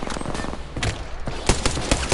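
Gunfire rattles in Apex Legends, a quick volley of sharp shots that comes in clustered bursts, moderately loud, with no voices over it.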